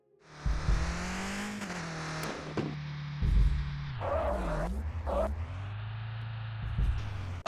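Car engine from the mobile driving game Skill Test Online, a steady loud drone that rises and falls as the car speeds up, revs and slows, with brief tire squeals and bumps along the way.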